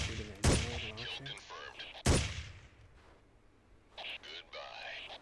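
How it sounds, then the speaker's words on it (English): Two sharp gunshots crack in Ghost Recon, each with a ringing ricochet tail, followed by a quieter spatter of distant fire, while players talk over the top. "I love the ricochets in this game."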